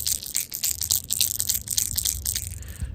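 A dense, rapid rattling from a shaken bass fishing lure with a one-knocker chamber and a BB chamber, hard knocks mixed with a bright clatter of small beads, continuous and close for several seconds.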